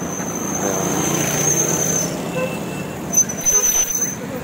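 Steady road traffic on Maharlika Highway in Santo Tomas, Batangas, a continuous low rumble of passing vehicles with a couple of short horn toots near the end.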